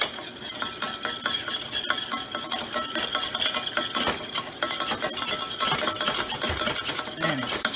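A utensil stirs flour into a roux in a pan, producing a continuous close scraping and swishing with light metallic clinks, steady and fairly loud, with no speech.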